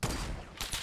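Sniper gunfire in the video game Fortnite: a short, sharp burst of shots close by, with a second report a moment later.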